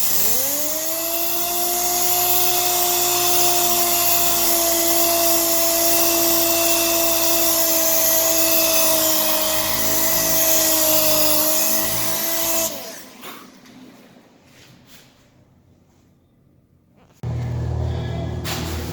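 A steady whining motor drone runs for about twelve seconds while paint on a custom-painted flag is sanded with 400 grit sandpaper, then cuts out to near quiet before a rougher noise returns at the end.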